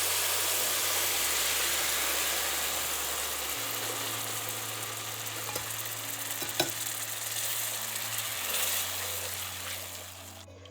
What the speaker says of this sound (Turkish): Şimdi üzerine ısıtmış olduğum sütü ekleyeceğim